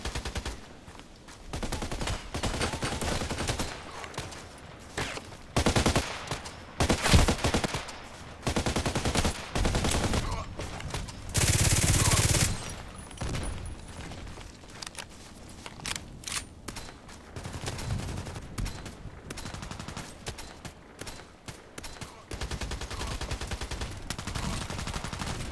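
Sustained video game gunfire in a sniper rifle match, with sharp repeated shots and rattling bursts layered thickly from start to finish, loud and close, plus one bright blast near the middle.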